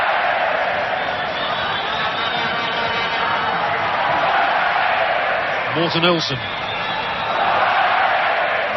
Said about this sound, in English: the crowd revelling in this one